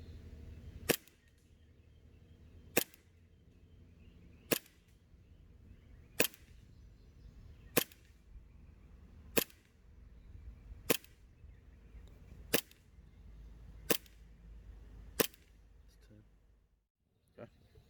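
Airsoft M9 pistol with a Resident Evil custom finish fired over a chronograph, eleven sharp evenly spaced snaps about every one and a half seconds over a quiet background.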